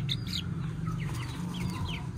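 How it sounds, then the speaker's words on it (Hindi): Small White Shamo chicks peep with high, thin chirps, scattered and repeated over a steady low background hum, close by and moderately quiet. "ये हमारा सबसे छोटा चूजा है"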